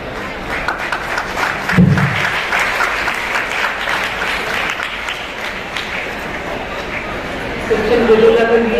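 An audience applauding in an auditorium at a children's welfare association event, a continuous wash of clapping with a voice speaking near the end.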